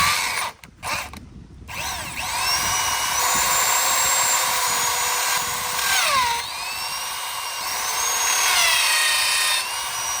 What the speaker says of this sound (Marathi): नारळाच्या खोडाला जेव्हा आपण ड्रिल करतो त्यावेळी हे ड्रिल मशीन लावायचं